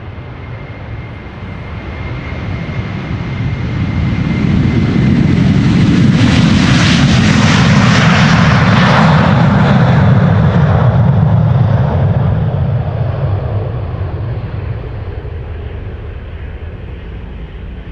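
A nine-year-old Delta Airlines jet airliner departs Amsterdam Schiphol Airport for Detroit, its engine roar swelling from a distant rumble to a loud, close, rasping peak before slowly fading, with no talk.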